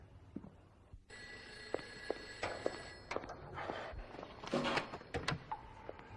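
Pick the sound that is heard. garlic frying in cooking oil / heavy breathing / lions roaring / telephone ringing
telephone ringing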